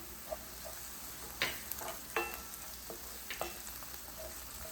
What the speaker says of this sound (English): I'm going to add the chilies right now and then saute everything